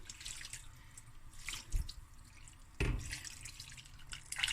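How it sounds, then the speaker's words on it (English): Water runs from a tap into a cooking pot of rice in a steady stream, with a couple of louder splashing gushes partway through, fairly close and without talk. "I'm going to add my water, just enough to cover the rice"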